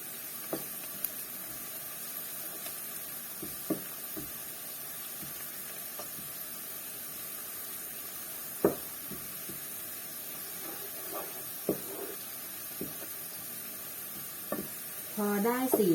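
Shallots frying in oil give a steady, faint sizzling hiss throughout, with occasional light clicks and scrapes of stirring, and a brief voice near the end.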